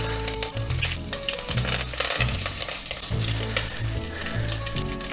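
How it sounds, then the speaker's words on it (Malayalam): Mustard seeds, dried chillies and curry leaves sizzle loudly in hot coconut oil, a steady crackling hiss broken by repeated low thuds and scrapes of stirring, with no voices. "വെളിച്ചെണ്ണ ഒന്ന് ചൂടായി വരുമ്പോഴത്തേക്ക് ഒരു 1/2 ടീസ്പൂൺ കടുക് ഇട്ട് കൊടുക്കുന്നുണ്ട് ഇതിലേക്ക്"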